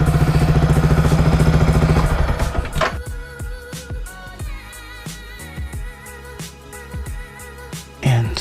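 Motorcycle fitted with an Akrapovic full exhaust, engine running at first with a loud steady drone, then cutting to quieter irregular clatter and knocks as parts are handled, with a brief louder burst near the end.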